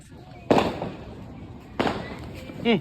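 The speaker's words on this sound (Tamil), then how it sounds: "நம்ம தேவ பட்டாசு பத்த வைடா" Firecrackers go off during Diwali celebrations as whistle rockets are set alight, two loud sharp bursts with crackling tails about a second apart and a rising whistle at the end, amid background chatter.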